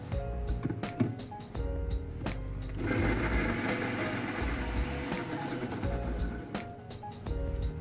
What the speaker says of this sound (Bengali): মিক্সির জারে নিয়ে নিচ্ছি আদা কুচি, ছাড়িয়ে রাখা রসুন এবং কাঁচা লঙ্কা। এর মধ্যে অল্প একটু জল দিয়ে দিলাম, আর একটা স্মুথ পেস্ট তৈরি করে নেব।